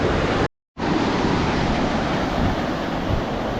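Sea water surging over the estuary rocks at Digha, a broad continuous wash of surf noise with wind buffeting the microphone, loud and close, briefly cut out near the start.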